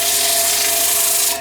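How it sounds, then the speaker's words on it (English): Sandpaper pressed against a turned wooden piece spinning on a lathe gives a loud, continuous rubbing hiss over a steady motor hum, easing off at the end. "what I'm going to do now is my sanding process"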